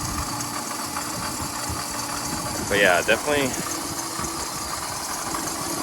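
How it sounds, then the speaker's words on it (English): A Jeep Grand Cherokee engine idles steadily with a low mechanical rattle, heard up close, while someone speaks briefly over it. "I can't really tell if the rattling is in the engine itself or if it's in front."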